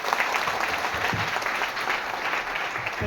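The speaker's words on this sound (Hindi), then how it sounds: "जोरदार ताली आप सभी के लिए।" A seated audience at a DXN camp in Puri claps steadily, a dense, even wash of applause held at constant loudness from start to finish with no voices over it.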